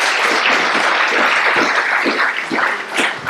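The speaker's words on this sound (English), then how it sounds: "A big round of applause for our moderator" An indoor audience at a men's health report launch event applauds a moderator with dense, sustained clapping that fades slightly toward the end.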